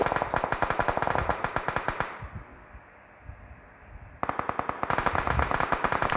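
Rapid automatic gunfire in the battle royale game PUBG, loud bursts of closely spaced shots, then a brief lull before the firing resumes with a sharp onset and continues to the end.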